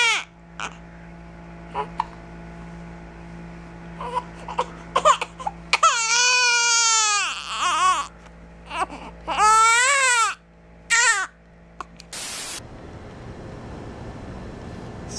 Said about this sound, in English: Someone hates having the hiccups.